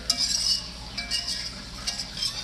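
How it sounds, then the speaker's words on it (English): A spoon stirs seafood boil sauce in a pot, producing close, continuous swirling and scraping with light metallic clinks and a faint sizzle underneath. "make sure we're just giving a general good stir"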